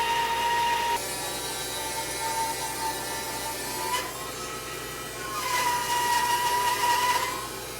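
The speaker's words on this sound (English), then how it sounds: "I have my bandsaw set up to resaw at 9/16 of an inch" Bandsaw resawing a thick piece of air-dried cherry wood into 9/16-inch boards, a steady whining machine drone with a tonal ring that shifts and swells as the blade works through the cut, no talk.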